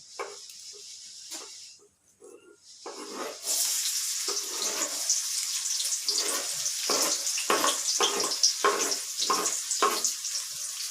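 Onions hitting hot oil in a pan after a few soft scrapes and knocks, bursting into a loud, close, steady sizzle with crackling and stirring pulses that carries on to the end.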